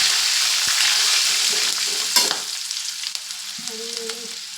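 Green chilies and curry leaves fry in hot oil for batata poha, a loud dense sizzle that settles down and thins into crackles and pops, with a few light utensil clinks.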